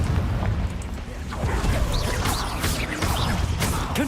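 A Confringo explosion spell goes off in the video game Hogwarts Legacy. Loud booming blasts and crackling bursts roll continuously, with sharp magical zings and pops on top.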